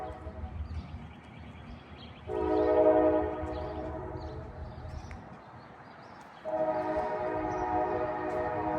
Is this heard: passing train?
yes